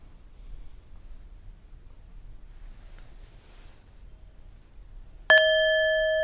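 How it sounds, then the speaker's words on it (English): Meditation bell struck near the end of a quiet session, a single clear ring that hangs and sustains after several seconds of near silence. "It's like a triple bell today."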